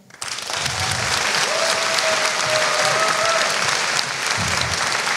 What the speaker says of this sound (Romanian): Încă o dată, aplaudați-o, pentru că merită.